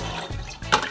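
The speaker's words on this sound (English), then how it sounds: "Add some more fresh water to it." Fresh tap water gushes briefly into a pot of soaked peas for Jamaican stew peas, a short close splashing pour.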